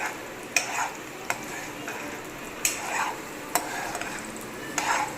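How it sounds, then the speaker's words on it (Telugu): A spoon stirs a food mixture in a pan on a stove, making scraping strokes at a steady rhythm with a soft sizzle underneath, close and fairly loud. "మిక్స్ చేయాలి"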